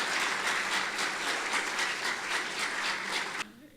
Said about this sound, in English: I would like each one to give a big round of applause to His Highness Sheikh Mohammed bin Ahmed